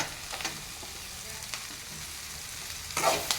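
Sliced okra frying in oil in a pan, a steady close hiss of sizzling with occasional scrapes and stirs, one louder stir near the end, no talking.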